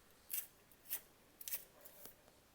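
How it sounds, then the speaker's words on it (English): A dull pencil being sharpened gives a few short, quiet scraping bursts at irregular intervals, with no talking. "this pencil's getting very dull. I'm going to need to give it a sharpen real quick."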